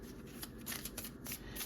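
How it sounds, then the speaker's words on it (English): Tarot cards riffle and slide in quick, soft shuffles close to the microphone, a quiet, papery flutter in several short bursts. "And as I'm shuffling these cards"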